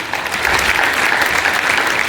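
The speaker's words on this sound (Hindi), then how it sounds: "जब तालियां बजाओ।" Children clap together in a continuous burst of applause at a school stage program, dense and loud throughout with no pauses.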